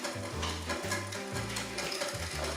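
A spoon or whisk stirs chocolate peanut butter lava cake batter in a bowl, giving a continuous close scraping and sloshing with a repeated rhythmic pattern.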